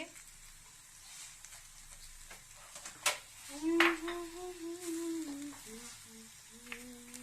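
A wet kadai heats on the stove before chapila fish is cooked, giving a faint, steady sizzle with a brief metallic clatter and a soft tonal hum partway through.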